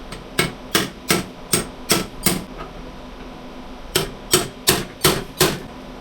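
Sharp metallic knocks struck at knockouts on an electrical box during an office access control install, a run of seven evenly spaced blows, a pause, then five more, close and loud.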